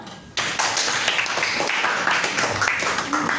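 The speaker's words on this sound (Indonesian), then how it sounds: "Tepuk tangan dong." A class claps together for a few seconds, a dense patter of hand claps starting abruptly, fairly close, with faint voices mixed in.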